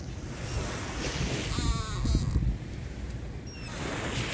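Ocean waves washing ashore at a seaside resort, steady surf rush with heavy wind buffeting the microphone, close and loud throughout, a faint voice briefly in the background.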